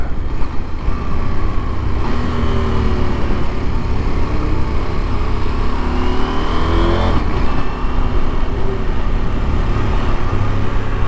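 A KTM motorcycle engine drones steadily while ridden, the rider feathering the throttle so the pitch rises and falls gently, loud and continuous under heavy wind rush, with no talk.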